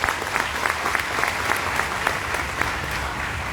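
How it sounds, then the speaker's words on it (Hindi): Audience clapping steadily at a Pehchan business event in Vadodara, a dense, even wash of many hands lasting throughout with no voices over it. "मैं चाहूंगा कि उनके लिए तालियां।"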